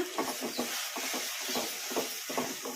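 A spoon works cashew masala around a frying pan, giving soft rhythmic scraping strokes over a low, steady sizzle, close and fairly quiet.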